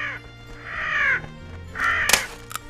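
A cartoon bird gives a few harsh crow-like caws, three drawn-out calls spaced over a couple of seconds, close and clear with a sharp click near the end.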